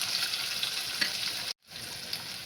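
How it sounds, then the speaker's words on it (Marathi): Onion, garlic, green chili and cumin sauté in a pan for masala rava idli, a continuous close sizzle with light stirring scrapes, broken by a brief cut to silence before the frying resumes. "कांदा आपल्याला हलका परतून घ्यायचा आहे."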